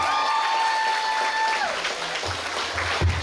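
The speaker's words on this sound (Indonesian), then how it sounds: "Tepuk tangan yang meriah untuk semua." Applause from a theatre audience after a performance by a drama troupe, dense clapping with a sustained tone running underneath for the first half, then thinning out as low room noise returns near the end.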